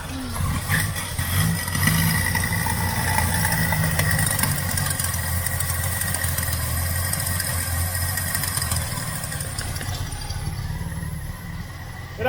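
Engine of a 1979 Holden Kingswood with a misfire runs steadily and close by for about twelve seconds, a rough, uneven idle with no talk over it.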